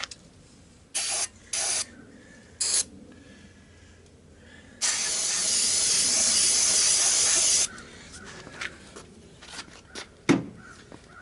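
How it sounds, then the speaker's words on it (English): Aerosol can of starting fluid sprayed into a snow blower engine, several short close hissing bursts followed by one long continuous spray of about three seconds, then a few brief clicks and knocks. "A little starting fluid"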